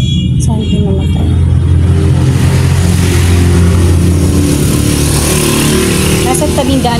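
Cars and motorcycles pass along a roadside in a steady, loud stream of engine rumble and revving, with voices faintly audible under the traffic.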